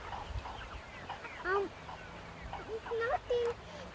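Chickens clucking in short bursts near the microphone, with a few higher squawks, while people talk and move about in a farmyard.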